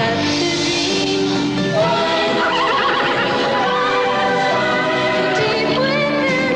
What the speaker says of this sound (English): did I see a magic horse called Wildfire